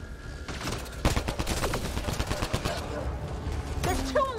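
Rapid gunfire from Mass Effect Andromeda combat breaks out as a dense fusillade of overlapping shots, loud and sustained, with squad voices calling out beneath it.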